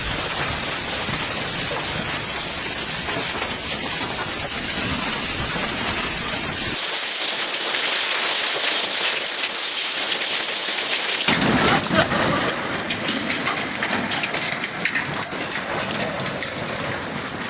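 Heavy Florida hailstorm with steady hard rain hammering surfaces and rolling thunder, loud and continuous, with a brief muffled stretch before the downpour returns at full strength.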